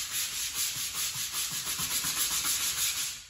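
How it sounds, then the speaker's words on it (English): A rhythmic, close rubbing and scrubbing of a surface cleaned with Purple Power industrial-strength cleaner, steady back-and-forth strokes with no voices. "it was a fair amount of scrubbing"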